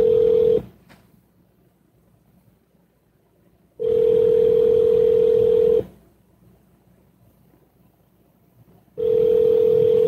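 Outgoing telephone call ringing unanswered, steady ringback tones each lasting about two seconds, separated by long silent gaps, repeating three times, clear and alone.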